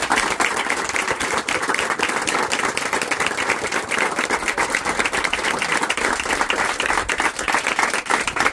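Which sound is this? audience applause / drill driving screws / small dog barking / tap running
audience applause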